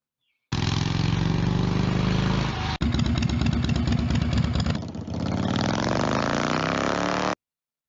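A Harley-Davidson Panhead motorcycle engine idles close and loud, a lumpy steady rumble that shifts character partway through and carries on without talk until it cuts off.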